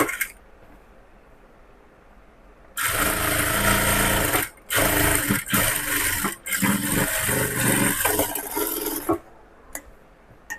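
Sewing machine stitching a straight seam on blouse fabric, loud steady mechanical whirring in long runs with brief pauses between, no talking.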